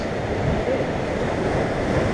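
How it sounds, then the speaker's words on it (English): Ocean waves splash along a Hawaiian shore in a loud, continuous wash of surf, with steady wind rush over it and no voices. "Because the waves splash up."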